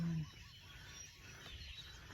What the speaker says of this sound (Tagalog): ang ingay na ng ibon